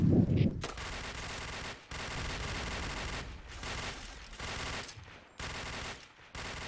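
Rapid automatic gunfire from a video game match, dense bursts of shooting that stop and restart several times, loud and close throughout.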